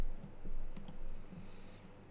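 A movie title is typed on a computer keyboard, a few soft, quick key clicks spread across a couple of seconds, faint and close.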